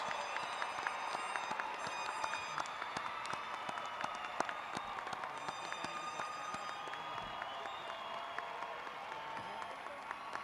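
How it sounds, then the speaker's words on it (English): Sustained applause from a large commencement audience greeting newly conferred bachelor's graduates, dense steady clapping filling the space for the whole stretch with a faint crowd murmur beneath. "Audience, a giant round of applause and appreciation for our newest bachelor's graduates."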